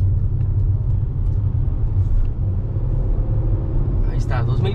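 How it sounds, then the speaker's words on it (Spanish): Car engine rumbles steadily while accelerating on a federal highway, a loud, continuous low drone heard from inside the cabin. "Saco el clutch rápido y acelero."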